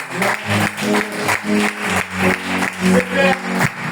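A church congregation at a French-language evangelical service applauds together, steady rhythmic clapping mixed with crowd voices and some singing-like tones, loud and continuous throughout.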